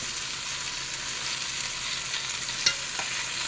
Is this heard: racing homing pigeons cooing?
no